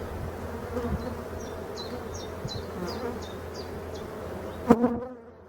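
Black honeybees, many of them drones, hum steadily around an opened hive, with a continuous close buzz and a few sharp knocks near the end before it cuts off.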